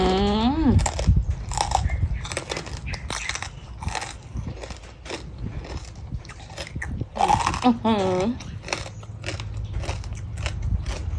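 Someone eats a crunchy Thai salad of pounded stink beans and fresh shrimp, close and loud, with repeated crisp biting and chewing crunches. Speech and eating-pleasure vocal sounds break in at intervals.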